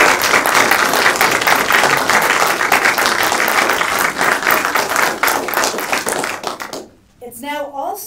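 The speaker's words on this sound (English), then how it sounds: "we should all just give a round of applause before we've even started for Judge Tashima" A symposium audience applauds Judge Tashima with loud, sustained clapping that fades out abruptly near the end, and a voice begins speaking after a brief pause.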